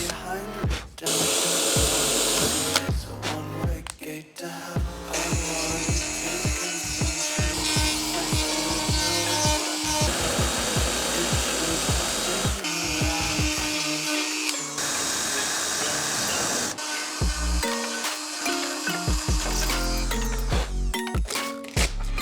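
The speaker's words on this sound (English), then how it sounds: "I'm just going to drill through both panels so I got holes in the right locations." Power drill boring through two stacked sheet-metal body panels on a Ford F-100 truck, a loud, close whine in repeated bursts of varying length with short pauses between, heard alone without talk.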